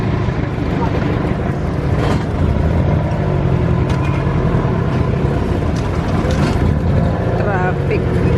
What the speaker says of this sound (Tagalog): Traffic.